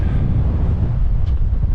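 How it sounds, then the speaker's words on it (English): Strong wind on an exposed hilltop at Darwen Tower buffets the microphone in a continuous, heavy low roar with no pauses. "it's very, very windy"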